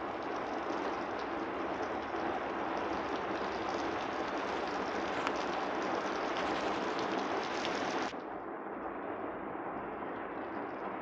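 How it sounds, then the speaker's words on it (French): Steady rain, apparently falling and dripping through a leak indoors, hisses as a dense continuous wash for the whole stretch, growing slightly softer and duller near the end, with no voices. "Oui, ça fuit. C'est de la pluie."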